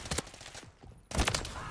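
Video game gunfire crackles in rapid, close bursts, with a brief lull before another dense volley of shots.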